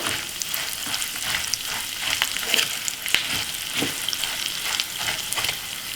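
Vermicelli being stirred in a pan after turmeric and salt are added: a steady low frying sizzle with scattered scrapes and clicks of the spoon against the pan, no voices.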